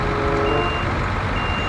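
A truck in SnowRunner beeps steadily in reverse gear, a clear repeating warning tone over a constant low diesel engine drone.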